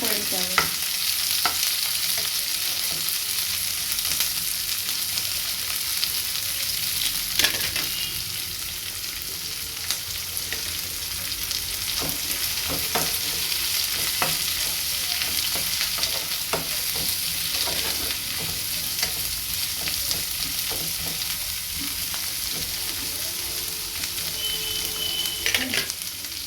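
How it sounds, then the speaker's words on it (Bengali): Chopped onion, garlic and green chili sizzling in a pan until browning, a constant close frying hiss broken by frequent scrapes and taps of a stirring spatula, with no talking. "লঙ্কা ভালো করে ভেজে নিতে হবে"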